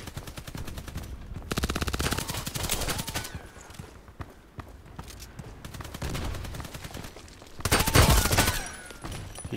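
Rapid bursts of gunfire in the online shooter Contract Wars, close and loud, arriving in several dense volleys separated by brief quieter gaps, with the heaviest burst near the end and no talking.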